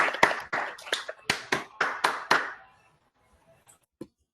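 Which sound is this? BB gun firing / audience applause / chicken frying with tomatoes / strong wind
audience applause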